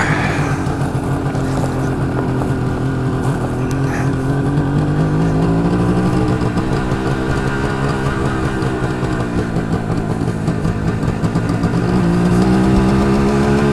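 A GT550 motorcycle riding up a driveway, its engine loud and close with a continuous droning hum that rises and falls in pitch as it changes speed, with wind rush and no talking.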